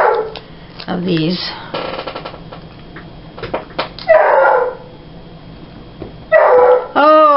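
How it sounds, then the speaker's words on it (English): Several dogs bark in short, sharp bursts at moderate distance, with some yips and whimpers. The barking comes in clusters between stretches of a person talking nearby. "Oh, those dogs."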